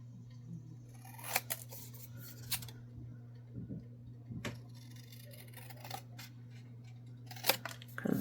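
Scissors snip through paper for a Lammas craft folio, a handful of short crisp cuts spaced irregularly over a steady low hum, close and fairly quiet with no talking.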